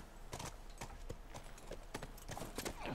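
Horse hooves clop in a steady, rhythmic walking gait in The Last of Us video game, crisp and close with no speech over them.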